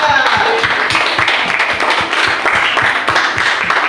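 Hands clap for Pak Ditya in a classroom teaching session, a steady run of sharp claps from a small group, close by and fairly loud, with faint voices mixed in.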